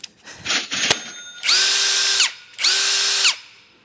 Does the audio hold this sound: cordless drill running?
yes